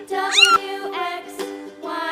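A cat gives three or four clear, close meows in a row, each rising and falling, with short pauses between them and no other sounds around them.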